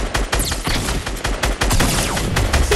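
Rapid gunfire from a Fortnite match, dense bursts of shots crowding together loudly and continuously with heavy low-end thumps, no talking over it.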